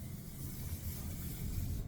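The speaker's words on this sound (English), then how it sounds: "Give it a spray with silicone" A steady, broad hiss of an aerosol silicone spray on upholstery fabric runs continuously for a couple of seconds, fairly quiet with a low rumble underneath.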